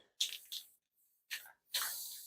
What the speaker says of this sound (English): Make sure this one's spraying okay.